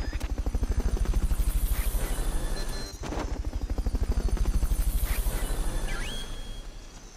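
Helicopter in the video game Metal Gear Solid: Peace Walker, with rotor blades thumping in a fast, steady chop that is loud and continuous, dipping briefly midway and fading slightly at the end, with a faint electronic tone near the close.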